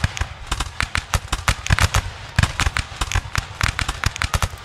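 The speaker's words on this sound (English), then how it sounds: "Rocket launcher!" Rapid sharp blasts and cracks from a rocket launcher in the video game Rise of Liberty burst irregularly, dozens of loud close impulses over several seconds, with no talk.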